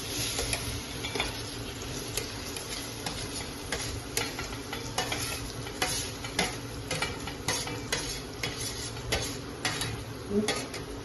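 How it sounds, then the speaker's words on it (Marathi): Chopped, peeled raw mango goes into a hot tempering of oil with asafoetida and turmeric and is stirred, steady soft sizzle under repeated light scrapes and taps of a spoon against the pan. "आता त्या फोडणीवर आपण कैरी टाकायची"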